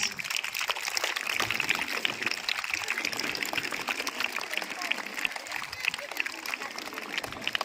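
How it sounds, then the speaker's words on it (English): An audience at a school quiz event in Rainbow claps to welcome a mentor onto the stage, a dense, steady burst of many hands that keeps going evenly from start to finish. "Let's welcome her with big claps"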